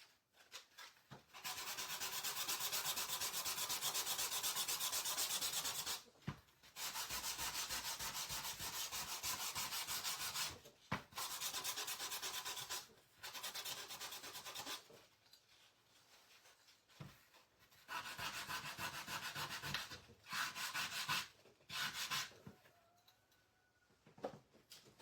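Hand sanding wood with an imitation gator sander, a steady rasping rub in long bursts broken by short pauses, close and fairly loud with no talking.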